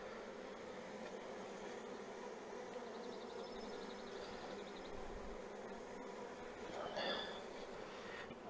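Honey bees buzzing inside a nuc box during queen introduction, a steady low droning hum that fills the clip at moderate level, with a brief louder burst near the end.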